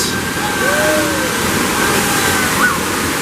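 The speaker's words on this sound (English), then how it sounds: "as long as the water main doesn't break" Heavy rushing and sloshing water from a staged water main break flood effect on the Universal Studios Hollywood back lot tram tour, a loud continuous torrent close by throughout.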